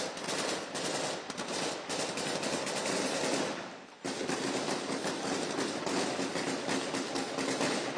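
Dense automatic gunfire and rapid bursts from armed clashes near Sweida, Syria, loud and continuous, with a brief lull midway before the shooting resumes.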